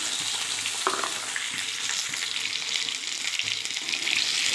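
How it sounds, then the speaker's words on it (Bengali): Potato pieces fry in hot oil, a close, continuous sizzle and crackle with a few soft knocks from stirring, and no voices. "আলুটা দিয়ে দিলাম,"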